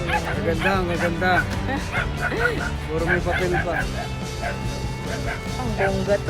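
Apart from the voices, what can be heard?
French Bulldog barking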